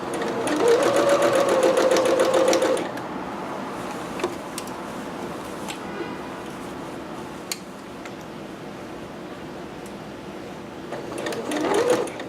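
Sewing machine stitching a dress seam, a fast close rattling run for about three seconds, then quiet room tone with small clicks before the motor starts up again at the very end.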